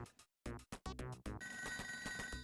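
A telephone rings in the ToeJam & Earl video game, a bright electronic trilling tone that starts after choppy game sounds and repeats in steady pulses over the game's background audio.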